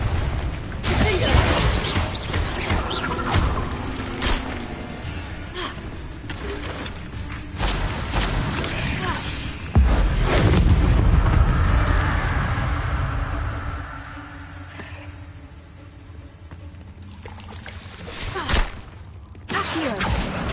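Confringo blasting-spell explosions in Hogwarts Legacy on PS5, repeated bursts and crashes with one heavy, rumbling blast in the middle, amid a busy, cluttered combat mix.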